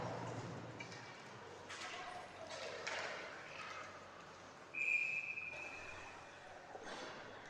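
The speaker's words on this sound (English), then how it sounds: "we'll take another whistle for the icing at 6:09" Referee's whistle at a freshman high school ice hockey game, blown to call icing: one sharp, steady tone of about a second and a half over arena crowd noise and rink ambience.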